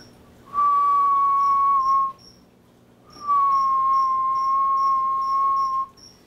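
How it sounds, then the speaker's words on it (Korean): Two long, steady whistled notes, each held for over a second with a slight downward glide, separated by a brief pause, clear and close. "일단은 휘파람 먼저 해볼게요"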